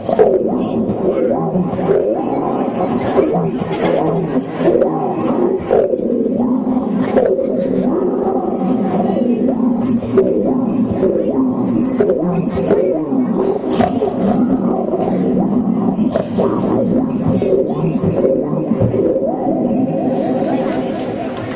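A voice imitates a lion's roar, a sustained, loud, rough growling that stays steady and close for the whole stretch with no other talk.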